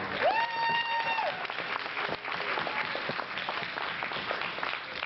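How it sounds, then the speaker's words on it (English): Applause for volunteers who served a dinner, a room of people clapping steadily and densely, with a brief whistle-like tone rising near the start before the clapping carries on alone. "The volunteers that showed up here to help serve this wonderful dinner. A round of applause."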